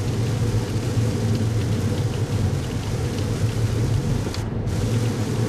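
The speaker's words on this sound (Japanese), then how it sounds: "うわこれはすごい雨だな" Very heavy rain pounds a moving car on a highway, a dense, loud, continuous roar of rain on the body mixed with road and engine rumble, with no talking.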